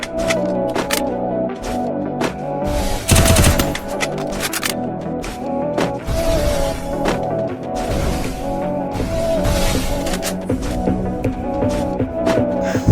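A shooting video game fires its guns, landing a headshot, with sharp, irregular gunshot cracks and bursts over a steady tonal music bed throughout.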